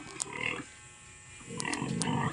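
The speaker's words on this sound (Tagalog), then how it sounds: "Baboy." Pig grunting close by in a farm pen, two rough buzzing bursts separated by a short quiet gap, fairly faint and heard on its own.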